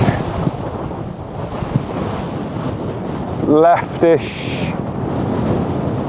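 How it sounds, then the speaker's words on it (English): Strong wind buffets the microphone on a remote UK golf course, a steady roar with gusts, while a short spoken word cuts through near the middle. "So short, it's so windy."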